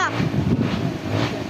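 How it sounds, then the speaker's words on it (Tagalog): Strong wind roars and buffets the microphone in a continuous, loud rumble that stays steady throughout, with a brief voice-like sound at the very start. "lakas ng hangin"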